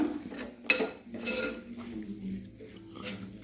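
A spoon stirs washed kudampuli into a pot of mackerel curry, giving a few close metallic clinks and scrapes against the pot in an otherwise quiet kitchen.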